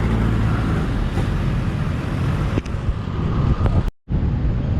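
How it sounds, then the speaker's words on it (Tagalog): Steady broadband road and engine rumble while riding a Motorstar Easyride 150 FI motorcycle in traffic, continuous and fairly loud, with a brief dropout near the end. "Mas malakas pa yung tunog ng sasakyan."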